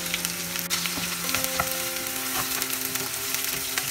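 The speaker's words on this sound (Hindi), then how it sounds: "जब तक प्याज में स्लाइटली गोल्डन कलर नहीं आ जाता है तब तक हमें फ्राई करना है।" Chopped onion and green chillies frying in oil with cinnamon and cloves for soya keema, a steady close-up sizzle with faint crackles and brief stirring sounds, no voices.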